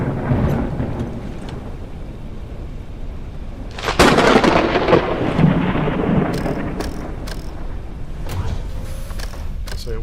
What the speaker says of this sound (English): Crack of thunder.